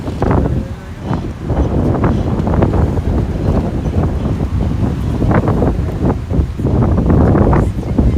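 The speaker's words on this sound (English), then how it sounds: "it's windy" Strong outdoor wind buffeting the microphone during a fall walk through Williamsburg, Brooklyn: loud, continuous low rumbling gusts that roar and surge throughout, with no speech over them.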